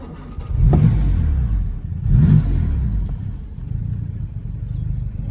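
1961 Jaguar Mark 2 with its 3.8 engine, not yet warmed up, rumbling loud and close with two rising revs before settling to a steady, lumpy idle.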